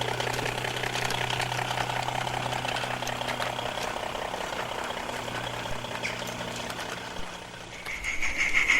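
Fowler 0-4-0 diesel mechanical locomotive running on a light railway, a steady low throbbing engine drone with a faint knock, moderately distant and unbroken for the whole stretch.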